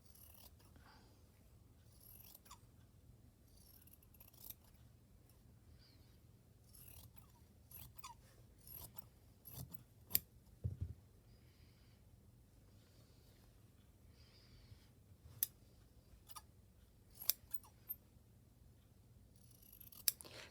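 Scissors snipping fabric and thread during a slow stitching project, sparse sharp clicks and small cuts scattered over quiet room tone, soft and close with no talking.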